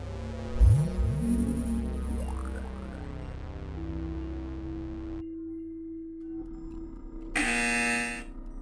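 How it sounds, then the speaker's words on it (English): Swooping electronic effects and a steady hum lead to a brief pause, then a loud, harsh quiz-competition buzzer blares for about a second near the end. "we've got a buzzer coming in from Liba Chennai"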